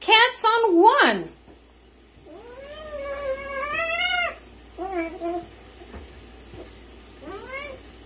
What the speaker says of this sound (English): Don't bite his tail. That is not fair. That is 2 cats on 1.